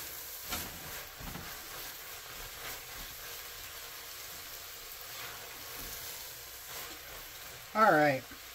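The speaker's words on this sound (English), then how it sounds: "Going to cook this for about 1 minute. or until the garlic becomes fragrant" Garlic sizzles steadily in a pot for red beans and rice while being stirred, a soft continuous frying hiss with occasional scraping, and a brief louder clatter near the end.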